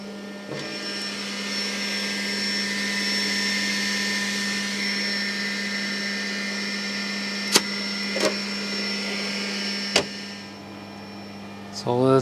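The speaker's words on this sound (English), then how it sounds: "So the printer is doing its calibration." A 3D printer runs its calibration routine and begins printing, giving a steady mechanical whir with a constant low hum and a few sharp clicks. It stays at moderate loudness throughout, with no talk.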